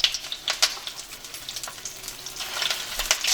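Shrimp surimi rolls fry in a hot pan, a steady crackling sizzle with a few louder pops and spatters, close and alone without voices.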